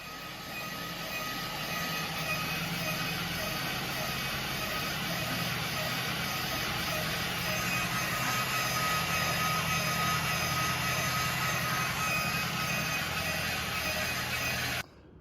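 A line boring machine cuts steadily through a JCB tool carrier headstock, a loud continuous grinding drone with a faint low chatter that holds unchanged for about fifteen seconds before stopping abruptly.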